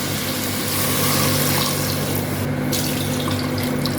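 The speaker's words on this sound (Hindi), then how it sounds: "इसमें 2 से 3 गिलास में पानी डाल दूँगी।" Water pours steadily from a glass into a pot of browned mutton for white karahi, a continuous close splashing gush with no pauses or voices.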